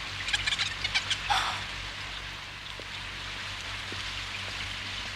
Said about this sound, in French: Il pleut des cordes depuis des heures.